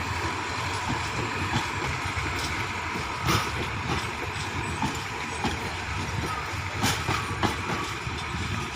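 Thai express train 111 passes by with a continuous loud rumble and engine drone, rhythmic clacks from the wheels over rail joints recurring throughout.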